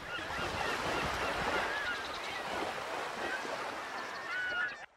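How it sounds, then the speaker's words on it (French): Gull cries ring out now and then over a steady wash of surf and wind at a fishing village beach in Baja California, Mexico, the calls fairly faint against the constant water noise. "Il y a plein de mouettes qui se reposent au soleil."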